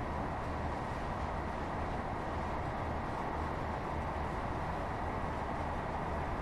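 A Class 158 Sprinter diesel multiple unit runs on the Midland Main Line in Train Sim World 3, a steady, even cab rumble and hiss holding at a constant level throughout with no talk.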